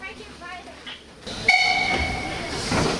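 A Selketalbahn narrow-gauge steam train departs a station, with a sharp whistle tone, hissing steam and rolling rumble building after a quieter start, while voices speak.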